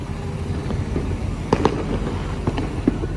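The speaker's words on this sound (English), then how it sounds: "You can hear tons and tons of fireworks going off." Fireworks bursting near an electric car Supercharger station at night, a continuous rumble of distant booms with several sharper, closer cracks scattered through.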